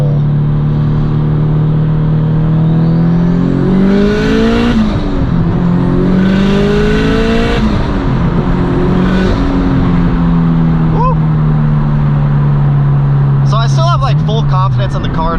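A flared car's engine revs hard in a full-throttle power pull, the loud droning note climbing steadily through the gears with brief dips at each shift, close and continuous throughout, with a few sharp chirps near the end.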